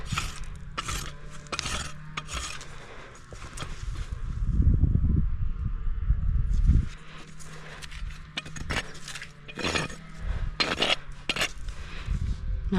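A farrier's rasp smooths a horse's hoof wall after nipper cuts, giving short, scraping strokes in bursts, with a longer, louder grinding stretch in the middle and quieter clinks between.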